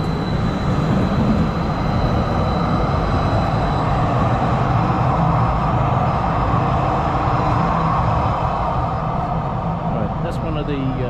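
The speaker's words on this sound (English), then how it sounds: "there is a train. Look at that, just waiting for the light" Steady low rumble of a three-carriage light rail train close by in downtown Calgary in winter, a continuous heavy drone with rolling mechanical noise that holds for several seconds.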